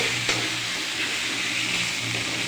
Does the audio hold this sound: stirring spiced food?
yes